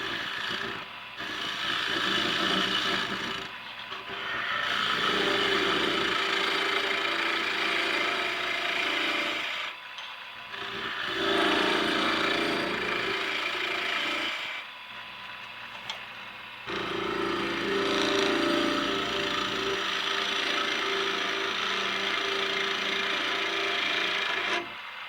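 Skew chisel riding the bevel on a wood lathe, peeling long shavings from spinning wood: a loud, hissing scrape in several sustained passes broken by short pauses as the tool lifts off, close up.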